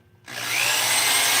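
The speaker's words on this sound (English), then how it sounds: "And now I'll just drill a bit of a pilot hole so that the screw won't have such a tough time" A power drill spins up sharply and keeps whining steadily as it bores a pilot hole for a screw, loud and close with no talking.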